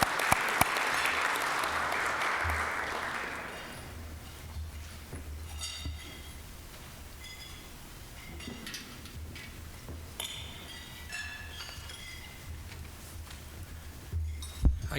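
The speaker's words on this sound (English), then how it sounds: "Let's give them a round of applause." Rotary club meeting members applaud three new members; a burst of clapping from a modest group fades after a few seconds into room noise with scattered clinks and faint chatter.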